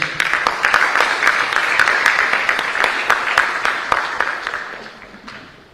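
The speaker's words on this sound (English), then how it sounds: "I think you have to clap for yourselves." An audience at a medical student summit applauds, a dense crowd of clapping with a few sharp individual claps standing out, fading away over the final seconds.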